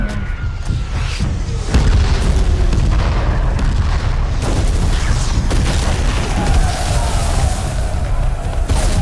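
Heavy cannon fire booms again and again on a battlefield, loud overlapping blasts and rumbling explosions that build into a continuous roar across the clip.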